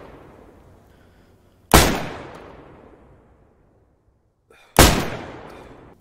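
Shotgun firing slugs on a range in DayZ, two heavy booming shots a few seconds apart, each loud and close with a long fading echo tail.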